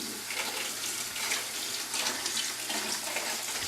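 Water runs steadily from a hose into homebrew bottles as each one is topped up, producing a soft, continuous splashing and gurgling heard close by and fairly quiet.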